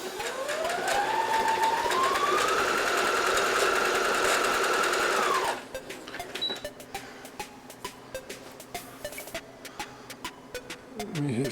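A Brother sewing machine stitches yellow fabric, its motor whirring up to a steady high-speed drone for several seconds before cutting off, followed by quieter clicks and mechanical handling noises, close by.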